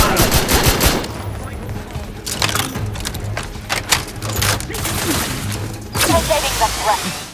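Loud, dense gunfire and combat noise in the sci-fi video game The Outer Worlds 2, with sustained bursts of shots and impacts layered over game sound throughout, and a voice speaking partway through.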